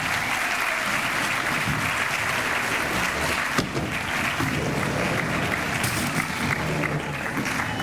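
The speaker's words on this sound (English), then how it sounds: "could you please join me in giving a round of applause to the Western Middle School custodial staff" At a distinguished teachers awards ceremony, the audience gives a round of applause for a middle school custodial staff, a loud, steady wall of clapping that continues throughout.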